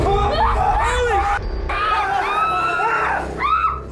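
A crew screams in panic as a foundry door opens by itself: loud, overlapping high-pitched shrieks and yells from several people, close and sustained, with one brief gap.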